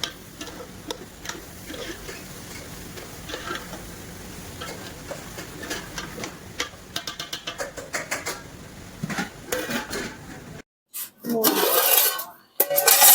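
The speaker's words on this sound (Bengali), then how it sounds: "কষানো চলতেছে" Liver frying and being stirred in a pan during koshano, with repeated close scraping and clinking of a utensil over a steady sizzle and a brief louder burst near the end.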